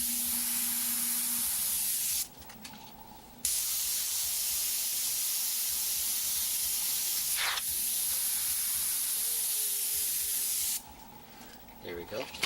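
An airbrush hisses in steady bursts as paint is sprayed over a small star stencil, with short pauses between bursts and quiet handling noises in the gaps.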